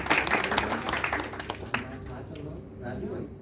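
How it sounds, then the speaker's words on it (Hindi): An audience claps during a 25th wedding anniversary gathering, a burst of applause at the start that thins out over a few seconds, mixed with voices talking. "ताली"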